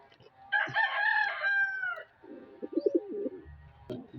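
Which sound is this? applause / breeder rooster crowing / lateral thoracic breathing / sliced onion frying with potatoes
breeder rooster crowing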